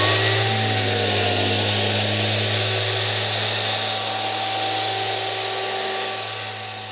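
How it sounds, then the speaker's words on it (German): An orbital sander smoothing a wooden chessboard whines and buzzes continuously up close with a steady motor hum, fading slightly at the end. "Mit dem Schwingschleifer glättet Heinz Echtermann dann die Oberfläche des Schachbretts"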